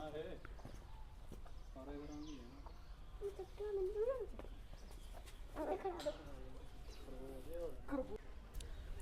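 Birds in a large zoo aviary at Bir Talab, Bathinda, giving repeated warbling, cooing calls near and far while a person talks over them.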